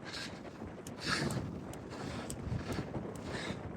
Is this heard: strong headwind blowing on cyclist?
yes